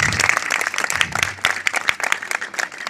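Audience at a closing ceremony applauding a theatre troupe, loud, close, dense clapping from many hands, steady and energetic for the whole stretch.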